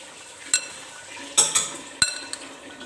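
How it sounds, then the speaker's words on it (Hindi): A yogurt spoon stirs and clinks against a bowl of black chana chaat, a few sharp taps and scrapes spaced out over a soft mixing rustle, close and fairly quiet. "ये मेरे पास दही वाला ही चम्मच है जिससे मैं इसको मिक्सअप करूँगी"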